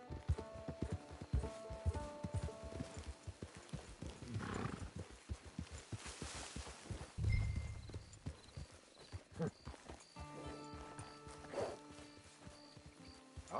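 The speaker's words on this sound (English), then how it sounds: "It's your horse." Hooves clip-clop in a steady walking rhythm from a horse near a camp in a PS4 game, with a whinny partway through and game music and effects layered underneath.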